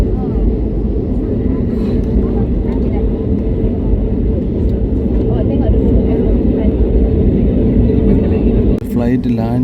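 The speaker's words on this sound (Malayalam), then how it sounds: "ഫ്ലൈറ്റ് ലാൻഡ് ചെയ്യാനുണ്ടെന്ന് തോന്നുന്നു" An aircraft comes in to land near a Langkawi airfield, a loud continuous engine rumble and roar that holds steady throughout while people talk over it.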